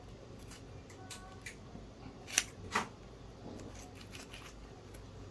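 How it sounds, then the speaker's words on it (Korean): Blunt-tipped scissors snipping through athletic ankle tape laid over underwrap, giving a few faint, sharp close cuts amid quiet rustling and handling noise. "뾰족하지 않는 가위를 이용해서 이렇게 날을 넣고 가위를 이용해서 잘라 나가면 됩니다"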